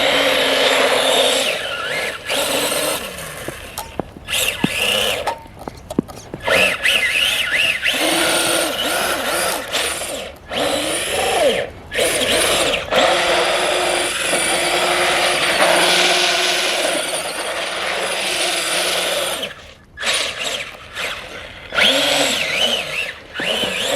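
A Traxxas Rustler RC car fitted with a cheap Amazon motor drives continuously, its high electric motor whine rising and falling with throttle, loud and close, with a few brief drops and skids.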